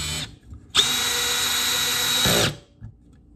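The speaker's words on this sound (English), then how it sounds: "You can hear that mechanical clutch," Milwaukee M12 Gen3 hammer drill (3404-20) driving a screw with its mechanical clutch set to 7, heard as a loud, steady whir of nearly two seconds that stops abruptly, with quieter handling noises before and after and no talk.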